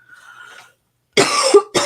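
After a faint, quiet stretch, a person coughs twice, close and loud, with a second hacking burst following shortly after the first.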